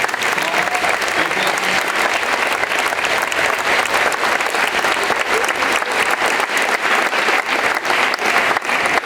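Audience at a high school spring vocal concert gives a loud, sustained round of applause, many hands clapping densely and evenly throughout, with faint voices mixed in.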